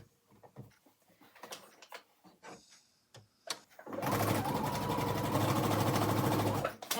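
A sewing machine chain piecing quilt block pieces: a few scattered clicks and handling noises, then a loud, steady rapid stitching run that continues for several seconds.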